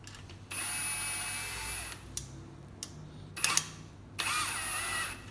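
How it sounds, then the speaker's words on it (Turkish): A cordless drill whirs in a steady burst, pauses, then gives a few short clicks and a final whirring run as it drives a screw into an aluminum clothes drying rack. "Şimdi şarjlı matkapla sıkıyorum."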